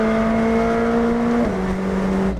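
McLaren 765 accelerating hard, a loud sustained engine drone heard from inside the cabin that rises steadily, drops briefly at a gear change, then climbs again before cutting off.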